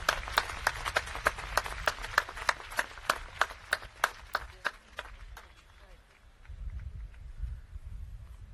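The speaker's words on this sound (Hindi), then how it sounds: "एक बार जोरदार तालियां जैना जी के लिए" An audience claps at a sports talent launch ceremony, with sharp, rhythmic applause fairly close for about five seconds before fading into murmuring room noise and low voices.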